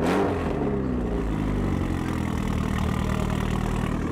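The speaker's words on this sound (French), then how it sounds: "On va avoir un petit démarrage de l'Evo en full tube." Mitsubishi Evo with a full straight-pipe exhaust fires up at a car event, a loud raspy start settling into a steady, rumbling idle, close by and alone.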